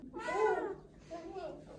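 A cat gives one clear, drawn-out meow followed by a second, softer meow, close by in a quiet room with no other sound.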